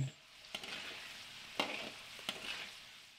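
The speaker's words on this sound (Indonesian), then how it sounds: "Bawang putih saya goreng terlebih dahulu sampai layu" Garlic fries over medium heat in a pan while being stirred, a soft steady sizzle broken by a few sharp scraping strokes of the utensil, quiet and close, with no talk.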